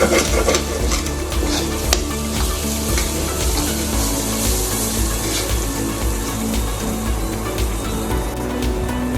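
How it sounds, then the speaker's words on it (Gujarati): Mustard seeds crackle and splutter in hot oil with grated ginger over a high flame, a loud, continuous sizzle with sharp popping bursts and occasional stirring clinks, no talk. "એકદમ સરસ રાઈ તતડી જાય એટલે એની અંદર આપણે થોડું આદુ એડ કરશું"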